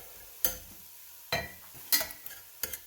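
Hamburger meat browns in a frying pan for homemade Cincinnati chili, with four sharp spatula scrapes and stirs standing out over a quiet, low sizzle.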